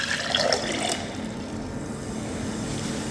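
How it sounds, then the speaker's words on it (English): Water pours into a cup holding pieces of an antacid tablet, making a steady rushing, fizzing wash with no talk. "we need to drop the pieces of the antacid table in a cup and then drop 1/2 of cup of water"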